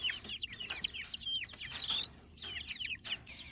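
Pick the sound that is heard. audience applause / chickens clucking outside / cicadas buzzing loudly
chickens clucking outside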